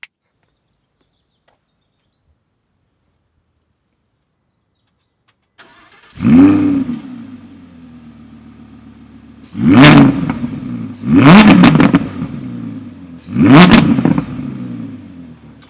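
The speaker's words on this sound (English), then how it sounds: "We've got the sound in there to hear how the exhaust sounds." Audi R8 started from silence and then blipped: an engine fires with a loud flare, settles into a steady idle, then three sharp exhaust revs rise and fall in close succession, near and loud with no talk.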